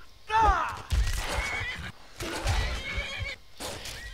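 A horse in the video game Skyrim neighs and whinnies loudly in repeated bursts while being attacked by wolves, with brief hoof clatter between cries and no talk.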